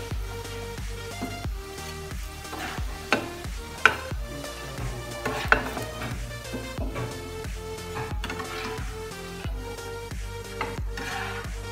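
Sliced bananas fry in a pan, with a steady sizzle broken by repeated stirring scrapes and clinks, and a soft tonal background underneath.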